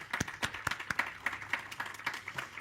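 Applause at a migration seminar, with sparse, distinct claps heard close, irregular and fairly quiet, as if from a few people.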